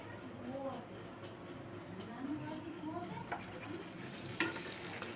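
A paratha fries in a little oil in a pan, giving a faint, steady sizzle with soft scraping and occasional light clicks, while a person talks quietly over it.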